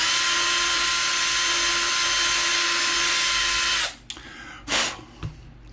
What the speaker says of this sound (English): I also need to drill right after this capacitor